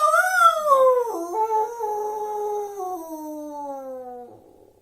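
A group of people howl in imitation of jackals, long wavering voiced tones sliding up and down in pitch, loud and close at first and then tapering off during a spoken telling of the Blue Jackal folk tale.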